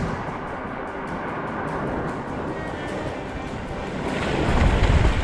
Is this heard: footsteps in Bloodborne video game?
no